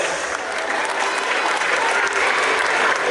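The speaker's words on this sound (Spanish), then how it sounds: "A fuerte aplauso a los campeones." Wedding guests burst into dense, continuous applause, a loud wash of clapping hands that holds steady throughout without pause.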